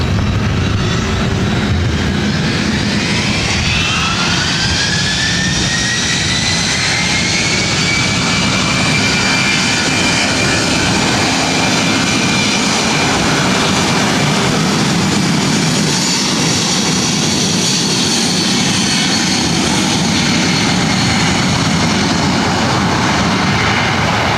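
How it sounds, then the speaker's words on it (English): A Delta Air Lines Boeing 757-200 jet takes off at LAX, a loud, steady engine roar with a rising whine that fills the whole stretch without pause. "This is Delta Airlines 403 taking off to Boston on a 757-200."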